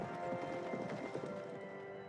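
A once-wild horse carries its trainer, ridden with no reins or halter, its hooves clip-clopping in a steady, busy rhythm that stays moderately close and even throughout.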